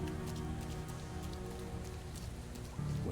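Steady rain in the video game Gloomy Eyes, a dense, even hiss of drops on surfaces running unbroken throughout, with a low musical drone underneath and no speech.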